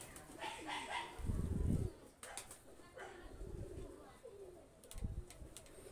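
Jonsira teddy pigeons coo in soft, repeated bursts close by, mixed with brief wing flaps and faint background voices.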